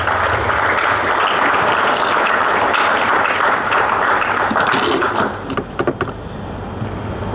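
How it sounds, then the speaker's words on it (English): Loud, sustained applause from a student audience at a Churches of Christ tertiary students' conference, dense clapping filling the room for about five seconds before thinning into a few scattered claps. "Let's applaud them."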